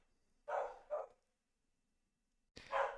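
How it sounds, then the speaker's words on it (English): A dog barks twice in quick succession, then once more after a quiet pause, each bark short and slightly distant against a nearly silent room. "You can hear the dog."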